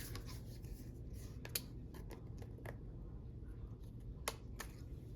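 Scissors trimming a paper library pocket, a series of quiet crisp snips and rustles over a soft background hum.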